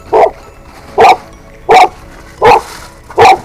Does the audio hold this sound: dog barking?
yes